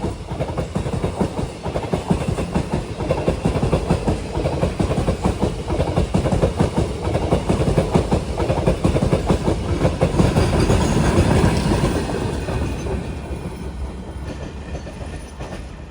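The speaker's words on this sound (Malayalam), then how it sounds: "പാലക്കാട് ഭാഗത്തേക്കുള്ള Coimbatore junction Mangaluru central express ഇതാ കടന്നു വരികയാണ്." The Coimbatore Junction–Mangaluru Central express rolls past near Walayar station, a loud continuous rumble with steady clickety-clack of wheels over rail joints that fades slightly toward the end.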